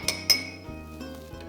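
A Negroni of gin, Campari and red vermouth is stirred in a glass, with a few bright clinks of the spoon against glass over the short span, close and clear.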